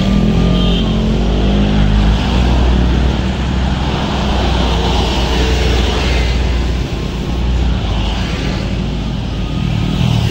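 Traffic including a dump truck and buses grinds eastbound up a steep highway incline, a loud, continuous roar of engines and road rumble close by with no one talking.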